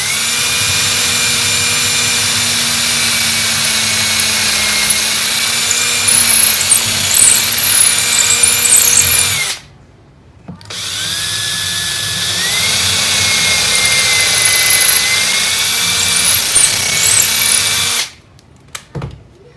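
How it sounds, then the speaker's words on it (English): A power drill bores pilot holes for cabinet hardware, a loud, steady high-pitched whine running for about nine seconds, stopping briefly, then whirring again for another long burst before cutting off. "As far as drilling our pilot holes"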